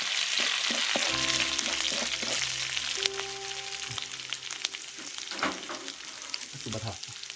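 Seasonings and salt dry-roasting in a hot pan for a spicy Akha-style eel stir-fry, with a steady close sizzle and crackle, occasional scraping stirs and clinks of a utensil throughout.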